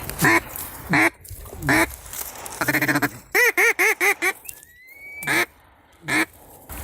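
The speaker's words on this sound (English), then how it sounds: "there's 2 ducks coming into the decoys right now" Ducks quack repeatedly as they come into decoys on a South Louisiana duck hunt, loud close calls in short bursts and quick rhythmic runs, with a brief whistle-like tone partway through.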